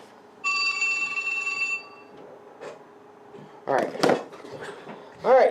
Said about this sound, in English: now the phone goes again, but I'm not answering it